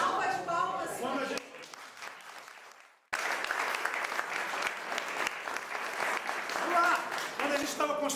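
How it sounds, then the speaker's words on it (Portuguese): Applause at a group meeting, dense clapping that briefly fades out near the middle, then returns strongly and continues steadily, with voices mixed in at the start. "Salva de palmas"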